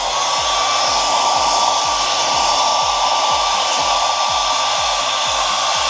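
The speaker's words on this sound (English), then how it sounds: "we're just going to be blow drying it straight upwards" A hair dryer blows at close range with a loud, steady whooshing roar and motor whine, drying hair straight upward while styling a pompadour; no voices.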